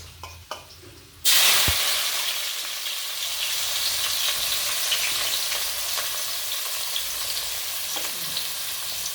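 Oil sizzles loudly as onions hit the pan, a sudden burst of hissing that settles into a steady, close frying crackle.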